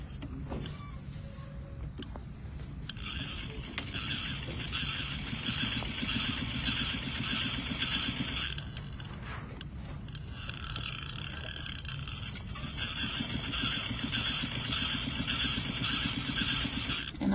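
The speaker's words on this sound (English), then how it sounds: "So top stitch about 1/16 close to the seam." A sewing machine top stitching the fly of a pair of pants, a fast, steady mechanical whir running in two long bursts with a short pause between them.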